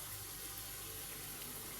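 Water pours into a cooking pot for machbous rice, a steady, continuous gushing stream heard up close and fairly loud, with no talking.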